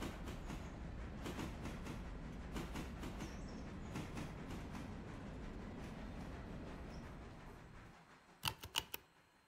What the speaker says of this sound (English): Oh, the train is doing that thing again.